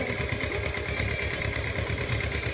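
A tractor engine idles in a village, a steady mid-pitched chugging drone with a fairly even pulse throughout, moderately loud and with no voices.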